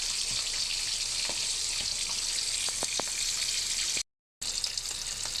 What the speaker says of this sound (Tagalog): Ginisang repolyo idol ang iluluto natin ngayon idol